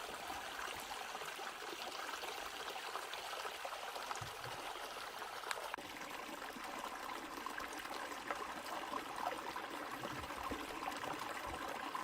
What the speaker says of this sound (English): you can see and hear the water flowing down from this creek